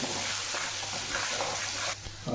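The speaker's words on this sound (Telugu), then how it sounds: "రెండు ఉల్లిపాయలు తీసుకున్నాను ఉల్లిపాయలు బాగా ఫ్రై అవ్వాలండి" Two sliced onions frying in a pan give a steady, close sizzle with faint stirring, then a brief louder clatter right at the end.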